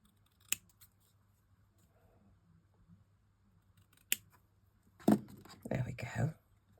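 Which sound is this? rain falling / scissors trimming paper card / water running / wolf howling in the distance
scissors trimming paper card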